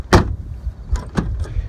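The door of a 1986 Chevrolet Suburban K10 is forced open with a sharp metallic clunk, then several heavier thumps and rattles as it is hit and pulled, close up and loud.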